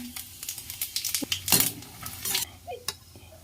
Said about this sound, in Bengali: এখন আমি এই ফোড়নের মশলাগুলি দিয়ে দিচ্ছি।